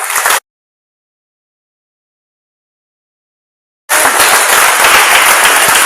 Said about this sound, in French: Acclame ça.